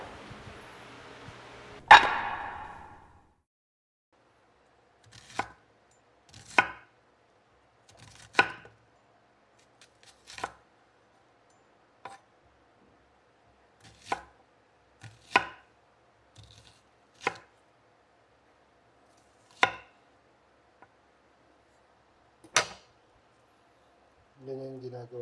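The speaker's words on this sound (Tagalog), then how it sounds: "So maya maghihiwa na tayo ng sibuyas." An onion being chopped on a cutting board for bistek tagalog, a dozen or so separate sharp knife knocks spaced a second or two apart, close and crisp, with a brief burst of talk near the start.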